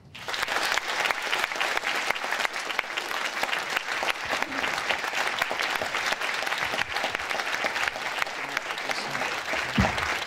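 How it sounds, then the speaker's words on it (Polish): A concert crowd applauds loudly and steadily for about ten seconds, dense clapping filling the room without a break. "Gromkie brawa."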